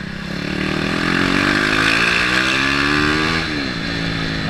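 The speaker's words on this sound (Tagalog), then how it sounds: "Big bike yung motor eh." A KTM RC390 motorcycle engine revs up and climbs in pitch, holds a loud roar, then drops briefly before rising again, close by with no voices.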